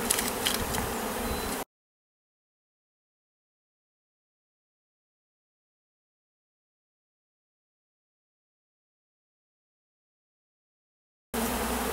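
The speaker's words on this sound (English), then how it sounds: "This hive is so full of bees." Honey bees buzz in a full hive during a spring split, a dense, close hum heard for under two seconds, then silence, returning briefly at the end.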